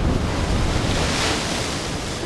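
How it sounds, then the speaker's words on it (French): Sea waves wash in and draw back over pebbles on a beach in the Calanques of Marseille, a steady, loud, broadband surf with wind noise and no voices throughout. "j'entends le sac et le ressac des vagues, simplement qui se retirent sur les cailloux"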